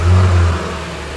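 A Porsche GT3 RS engine fires up with a loud, close rev that holds for about half a second, then drops back to a steady idle.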